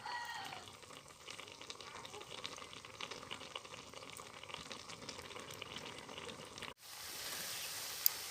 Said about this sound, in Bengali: এখন জোরে জাল দিয়ে পানিগুলো কমিয়ে নেব